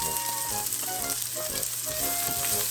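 Chopped onions and garlic fry in a pan for egg fried rice, giving a steady close sizzle with faint crackles throughout and no voices.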